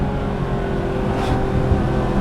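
A Porsche 911 GT3 RS engine drones steadily and loudly while the car drives, a continuous mechanical roar with a slight rise in pitch midway through, heard close with no talk over it.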